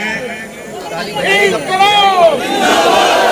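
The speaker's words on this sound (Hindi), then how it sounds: "आप नारे लगाए।" A crowd of workers protesting an employee's accidental death chants slogans together, loud massed voices rising and falling in a rhythmic call close by.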